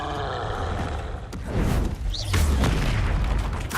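A Confringo fire spell bursting in the Hogwarts Legacy video game, heavy booming blasts with a roaring rumble swelling midway and sustained loud impacts, no talking.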